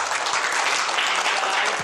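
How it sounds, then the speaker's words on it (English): Audience at a business society talk on credit reports clapping to welcome a professor, a brief, dense, loud burst of applause with no pause. "let's give Mr. Professor Russell a round welcome hand of applause"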